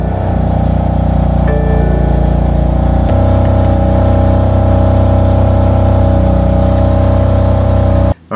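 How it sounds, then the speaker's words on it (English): BMW F80 M3 with the S55 engine idling steadily after start-up, a loud, even mechanical drone close by with a brief rise partway through, then cutting off at the end. "Go ahead and turn the engine on so we can measure the oil."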